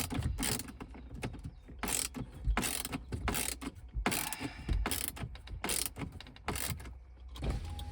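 A ratchet tightens a bolt on a 2001-2002 Volvo V70 during an HVAC repair, giving fast, close bursts of clicking with brief pauses between strokes.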